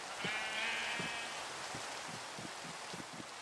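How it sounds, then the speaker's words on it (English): Farm sheep in the video game Minecraft bleat in a series of short repeated cries against a soft, hissy background, with no talking. "Let's grab our sheep."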